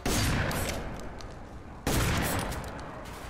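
Rapid gunfire from the F.E.A.R. 3 video game, a loud dense burst of overlapping shots, a brief dip, then a second sharp volley of repeated firing.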